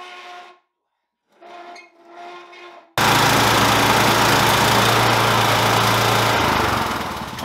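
A Toro LX 420 riding lawn mower runs under test after deck and belt repair, its engine starting abruptly loud and droning steadily close by, following a few seconds of quieter noises and a pause.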